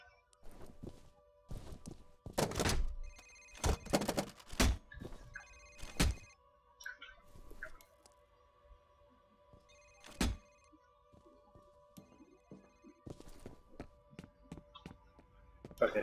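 A telephone rings in the video game FEAR, repeated bell-like tones sounding at moderate level among thumps, footsteps and other game noises.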